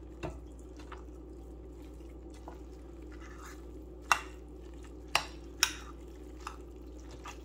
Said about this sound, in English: We're going to give this a quick stir.